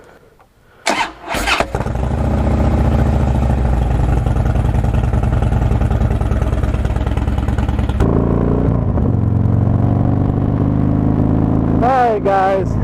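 A Harley-Davidson Dyna motorcycle fires up after a couple of brief clunks, then settles into a loud, steady V-twin rumble that holds close by, with a shift in tone partway through and a few revs near the end; a voice talks over it.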